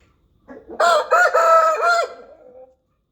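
A single rooster crows loudly and close by, one full cock-a-doodle-doo that rises and trails off, with no other sounds around it.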